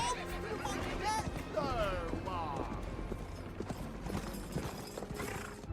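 Horses gallop en masse in a medieval battle video game set in 1066, a dense steady patter of hooves blended with swooping game effects and battle noise, continuous and fairly loud throughout.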